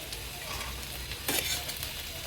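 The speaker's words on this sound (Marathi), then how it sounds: "मिठासोबत पण व्यवस्थित अशी ना मिक्स करून घ्यायची आहे" Fried okra with onion and salt being stirred in a pan over a wood-fired stove, a continuous sizzle with scraping strokes and one louder scrape midway.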